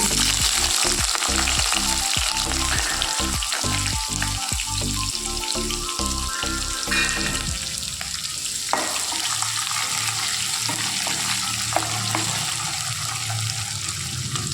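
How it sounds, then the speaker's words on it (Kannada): Chana dal, urad dal and onion fry loudly in hot oil for avalakki uppittu, a dense continuous sizzle with rapid clicking spatters early on that thin into a smoother, steadier hiss. "ಸ್ವಲ್ಪ ಫ್ರೈ ಆದಮೇಲೆ ಕಡಲೆಬೇಳೆ ಉದ್ದಿನಬೇಳೆ ಈರುಳ್ಳಿ"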